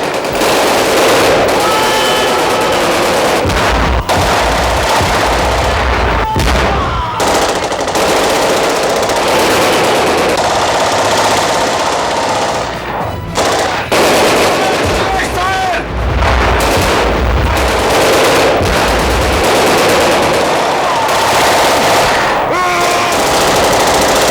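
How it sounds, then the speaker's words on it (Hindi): Loud, sustained bursts of machine-gun fire rattle nearly nonstop, with heavy booms and brief pauses between volleys. "अचानक गोलियां चलने लगी"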